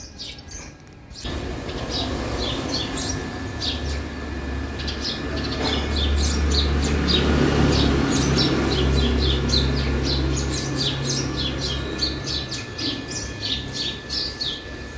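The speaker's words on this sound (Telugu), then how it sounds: "కనిపించిందా మీకు ఊర పిచ్చుక?" House sparrows chatter in tree branches outdoors, many quick repeated chirps and squawks forming a busy continuous chorus over a low steady background hum.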